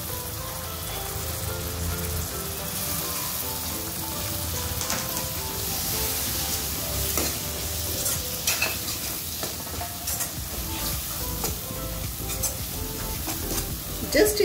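Tomato masala frying in a pan with freshly added coriander and mint, giving a steady, dense sizzle with scraping stirs and a few clinks of utensil on the pan, close and continuous.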